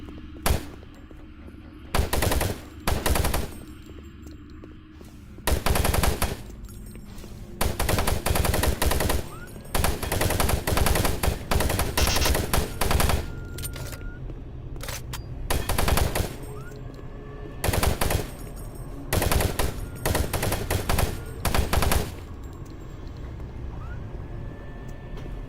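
Loud machine gun fire in the video game DOOM 3, with repeated long and short bursts of rapid shots between quieter stretches of game ambience.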